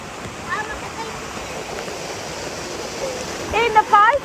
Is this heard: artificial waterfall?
yes